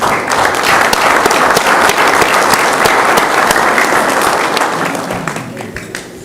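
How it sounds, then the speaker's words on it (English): An audience at a San Juan city commission meeting breaks into a full round of applause, crisp individual claps packed into a steady roar that tapers off toward the end. "I'd like to give you guys a big round of applause for being supportive"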